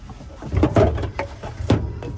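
Drawers in the cabin of a 2002 Pleasure-Way Excel-TS Class B motorhome slide open and shut, giving several close knocks and sliding thumps in an uneven rhythm, clear and alone.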